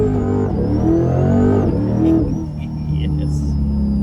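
Supercharged Chevrolet C8 Corvette engine rumbling loudly nearby, with a high supercharger whine riding above it that rises and dips with the revs while people talk over it.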